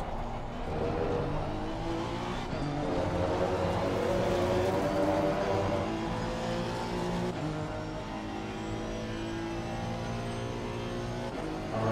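A race car engine in a racing video game drones steadily through a lap, shifting pitch as it accelerates and eases off, with no talking over it.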